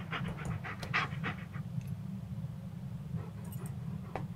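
A dog in Blair Witch pants quickly and rhythmically close by, a steady huffing breath under faint background noise and a few soft clicks.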